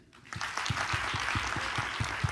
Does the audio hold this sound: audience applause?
yes